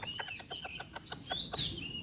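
Bantam chickens cluck in a quick, uneven series of short close calls, with a few higher chirps mixed in over a low background murmur. No one speaks.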